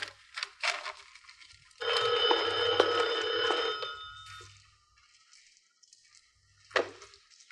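An old-style telephone bell rings in one long, bright burst, followed by quieter room sounds and a brief thump.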